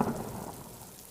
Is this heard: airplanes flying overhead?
no